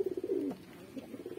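Young pigeons coo softly at a loft, a few rolling low calls followed by quieter burbling, faint and near with no voices.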